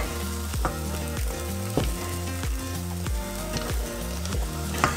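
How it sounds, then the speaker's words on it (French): Choux pastry dough sizzles in a hot pan while being stirred, with rhythmic scraping and knocking strokes repeating about once a second over a steady frying hiss. "Par contre, faut pas arrêter de remuer parce qu'il faut pas qu'on crame notre pâte."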